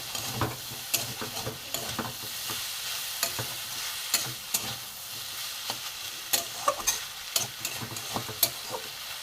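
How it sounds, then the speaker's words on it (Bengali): Kochur loti (taro stolon) curry is stirred in a pan after being covered: a constant frying hiss with repeated sharp scrapes and taps of a spatula at an uneven rhythm, close and clear, with no voices. "একটু আমি নেড়ে দেবো, চাপা ছিল।"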